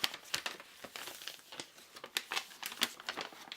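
A fold-out paper rules sheet from a 2003 Dragon Booster trading card starter deck crinkles and rustles as it is unfolded, with irregular close crackles and snaps.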